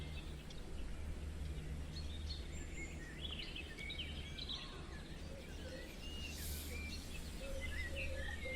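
Small birds chirp and tweet faintly in short scattered calls over a steady low outdoor hum, with a soft insect-like hiss in the background.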